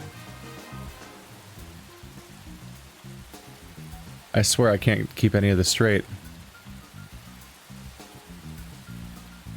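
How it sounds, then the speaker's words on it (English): Steady rain in the video game Deadly Premonition, a constant soft patter that runs throughout and continues beneath a short stretch of male speech in the middle. "it's raining"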